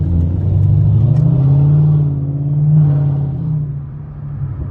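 A car fitted with Speed Engineering headers and a muffler delete revs loudly and close by, a deep throaty exhaust rumble that rises and falls through two throttle swells, with no talking.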